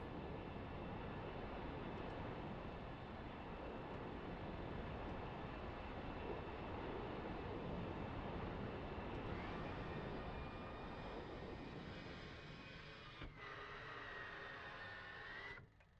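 Aircraft engine spooling up in the DCS flight simulator game: a steady, broad roaring whine that holds throughout, with rising tonal lines and a shift in pitch near the end before it cuts off.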